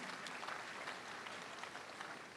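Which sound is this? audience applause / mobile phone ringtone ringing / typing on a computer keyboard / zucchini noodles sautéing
audience applause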